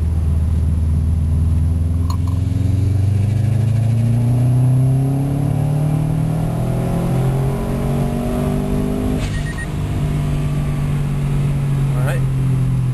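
A car engine pulls hard in fourth gear, a loud, close drone whose pitch rises smoothly and steadily over several seconds, with road rumble underneath.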